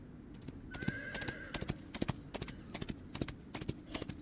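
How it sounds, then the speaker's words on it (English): Horses in a tabletop-game sound effect, their hooves beating a fast, sharp clip-clop rhythm throughout while a single high whinny cuts across the middle, clear and close. "And terrified horses. Screaming horses."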